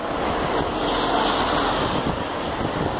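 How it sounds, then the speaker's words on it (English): Steady wind gusting outdoors with heavy buffeting on the microphone, a continuous broadband rush that swells slightly and never lets up, no voices present. "It's getting windy again."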